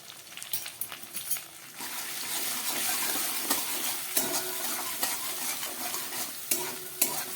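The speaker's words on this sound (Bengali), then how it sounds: "এগুলোকে এখন আমি 2-3 মিনিট মতো একটু খুব ভালো করে কষিয়ে নেব।" Coriander powder, dry chili powder and crushed black pepper sautéing in a pan for a vegetarian jackfruit curry: a steady broadband sizzle with repeated stirring scrapes and clinks, close and moderately loud, no voices.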